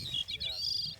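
A Bicknell's thrush, a small gray songbird on Mount Mansfield at sunset, sings a quick run of high whistles and buzzy notes. The song is brief and faint, with a low murmur underneath.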